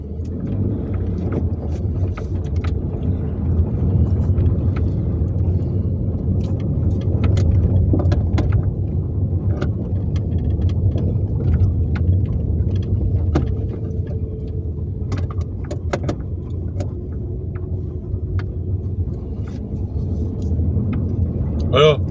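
A steady, loud rumble of a car engine and road noise from inside the moving vehicle, holding level throughout with small clicks and knocks over it.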